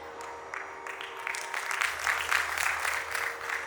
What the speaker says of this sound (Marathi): आता 3:30 म्हणून सुद्धा हे टाळ्या वाजवत आहेत